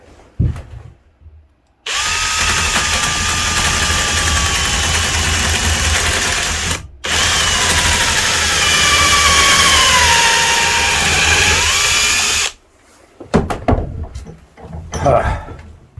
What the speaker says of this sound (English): The drill seems to be walking in the wood.